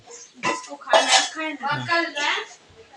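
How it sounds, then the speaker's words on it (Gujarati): Dishes and spoons clatter up close in several quick bursts of clinking, ringing metal and crockery. "વાટકા બાટકા મારો લે ડીશ લાવજો ને એક ચમચી"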